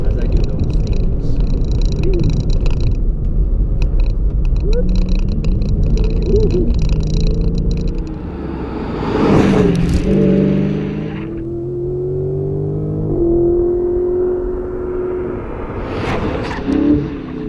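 A driver hums and growls car-engine noises with his voice while lapping a track in a Dodge SRT Charger, the imitated revving rising and falling over the real car's engine rumble and road noise.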